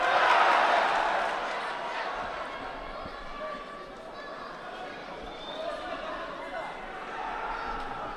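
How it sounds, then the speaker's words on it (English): Crowd at a judo Grand Prix arena in Almaty roars and cheers, loudest at the start then holding as a steady broad din, with a commentator's voice running over it. "Crowd right up there. Great crowd here. Absolutely amazing crowd."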